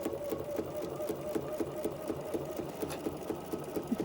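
A sewing machine stitches a snowman-shaped fabric piece, its motor running continuously with a rapid, even needle rhythm. The sound is close and steady throughout.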